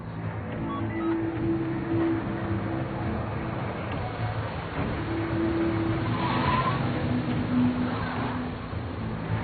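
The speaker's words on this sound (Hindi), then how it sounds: "वो अब गाड़ी रोक देंगे" A car skids and brakes to a stop, a sustained engine roar overlaid with drawn-out tire squeals that rise and fade several times over nine seconds, loud and close with no talking.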